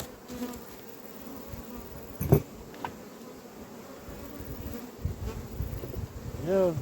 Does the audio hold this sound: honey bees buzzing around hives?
yes